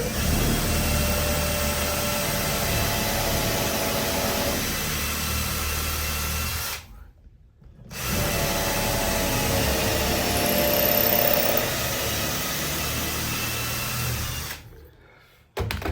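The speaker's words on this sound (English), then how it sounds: "Let's drill this side right here" A loud, steady power drill drones continuously while drilling a pilot hole for a screw, cutting out abruptly for about a second near the middle before starting up again, then stopping near the end.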